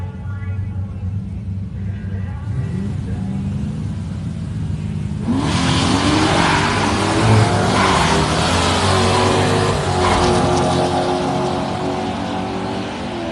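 A 5.7 litre 350 small-block Land Cruiser Troopy drag racing a Commodore at an NHRA drag strip: a loud engine roar builds and surges as it launches, with crowd and announcer voices underneath.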